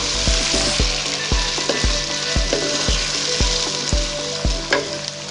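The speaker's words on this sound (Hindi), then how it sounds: "बैंगन को हमने अच्छे तरीके से फ्राई करना है" Eggplant pieces frying in oil in a pan without spices, a loud continuous sizzle close by, broken by regular thumping knocks about every half second as the pieces are turned.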